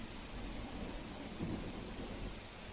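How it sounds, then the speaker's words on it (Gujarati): Heavy monsoon rain pours steadily over a flooded market area in Valsad, with a low roll of thunder swelling briefly in the middle of the dense, continuous hiss. "વલસાડમાં સતત વરસાદી માહોલ છે"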